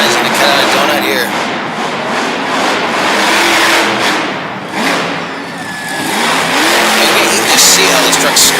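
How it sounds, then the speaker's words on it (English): A monster truck cuts a donut on an arena floor, its engine roaring loudly and revving in surges for the whole stretch, with an announcer talking over it. "the job guy's going to cut out a donut here."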